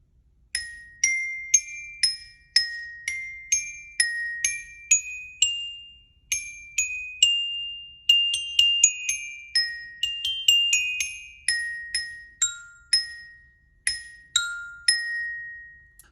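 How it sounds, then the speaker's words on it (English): School band bells, a mallet-struck glockenspiel, play a melody of bright ringing metallic notes. The notes are struck one at a time in a quick, steady rhythm, each decaying briefly before the next. The bells are close and clear, with no talking. "The bells use mallets to play, and they sound like this"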